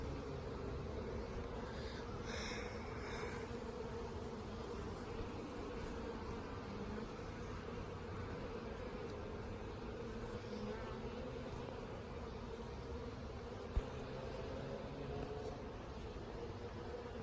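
Honey bees hum steadily around a lifted hive frame during work on a nucleus hive, a dense, continuous drone close by that stays even throughout with no talking.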